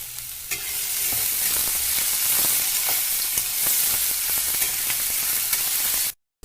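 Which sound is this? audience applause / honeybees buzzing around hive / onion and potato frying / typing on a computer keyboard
onion and potato frying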